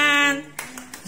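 Hands clapping at a teenager's birthday celebration, a few sharp claps after a sustained sung or voiced tone, fairly near, with voices present.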